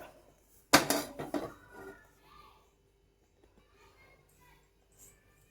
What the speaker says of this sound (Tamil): இப்போது கேஸ் பற்ற வச்சுக்கலாம் இப்போது கடாய் வச்சுக்கலாம்